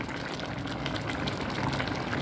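Fish paksiw sauce simmering in a home-cooking pot, a steady bubbling hiss with dense watery crackle held at an even level throughout, no voices.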